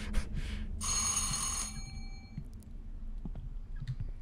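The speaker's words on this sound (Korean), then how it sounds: "일단 전화를 좀 받자." A telephone rings inside an abandoned building, a short bright electronic ring burst followed by a quieter room with faint scattered knocks and no talking.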